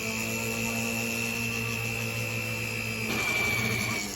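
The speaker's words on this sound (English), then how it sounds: "Just a tiny bit with my drill to make sure it's in the right position." A small drill bit boring into a sterling silver chain link for an artisan bracelet gives a quiet, steady motor whine that shifts pitch slightly near the end, with no talking.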